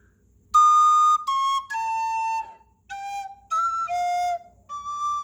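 A series of clear, breathy flute tones, several held notes with short gaps, some sounding an octave higher than others, played alone.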